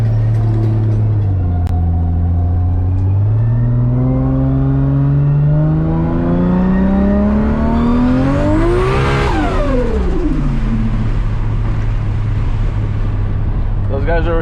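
A Toyota Supra MKIV sports car engine, over 1000 horsepower, revs up, its pitch climbing steadily to a high roar before dropping back to a low idle rumble, loud and close.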